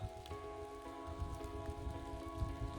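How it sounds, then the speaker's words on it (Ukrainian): Light rain pattering outdoors at a mushroom-picking spot in the woods, a soft steady patter with scattered drops close by and a faint constant tonal hum running underneath. "Дощик іде прямо зараз."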